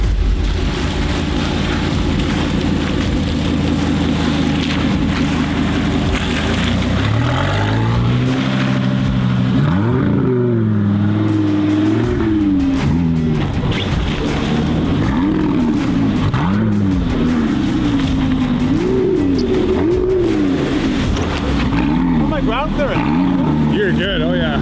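A sports car engine roars and revs loudly, rising and falling as the car labors over rough off-road ground, with people talking over the noise.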